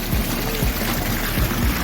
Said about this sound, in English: Adding some fresh water for them right now.